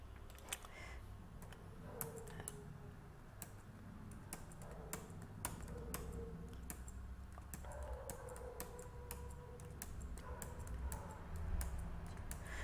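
Keys clatter on a computer keyboard in a quiet room, with quick irregular clicks and short bursts of typing running the whole time, soft and close, with no voices.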